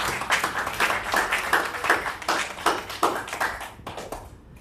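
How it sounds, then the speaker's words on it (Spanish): A church congregation applauding the mothers, with rhythmic, unison-leaning clapping in regular pulses, moderately loud and tapering off at the end. "Y si quieren darle un aplauso a las mamás"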